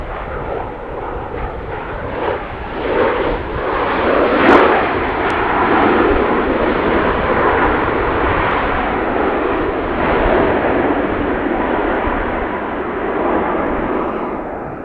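An airliner arriving at Edmonton International Airport after a short flight from Calgary: a continuous broad jet-engine roar, loud and steady throughout, with a slight swell partway through and no voices.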